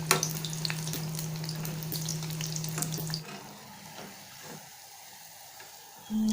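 Mixed dal vadai (thavala vadai) frying in hot oil over a gentle flame, a steady close crackling sizzle that is loud for three seconds and then drops to a quieter bubbling, with a faint clink near the end.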